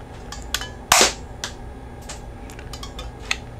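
A Rayline Tracer toy disc gun fires with one sharp, loud plastic snap, set among lighter mechanical clicks of its lever cocking and releasing, close and without speech.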